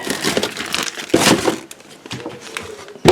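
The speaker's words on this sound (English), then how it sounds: "We'll use a plastic bag today." A plastic bag used as a splatter shield over a makiwara crinkles and crushes in repeated loud, close bursts with brief pauses between them.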